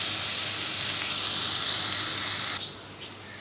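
Finely chopped onions frying in a pan toward golden brown, a loud continuous close sizzle that suddenly drops away near the end, followed by a faint clink.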